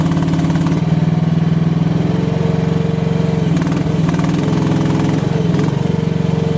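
A Chinese H15R mini excavator works in clay soil near tree roots, its engine droning loudly and steadily up close with slight shifts in load throughout.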